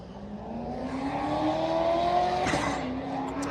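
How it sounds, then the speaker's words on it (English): A Corvette fitted with a loud aftermarket exhaust accelerates nearby, its engine note climbing steadily in pitch as a sustained, close roar, with a brief sharp transient partway through. "Why is that Corvette so slow? It's making all goddamn noise and it's so slow."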